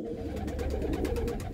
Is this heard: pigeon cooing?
yes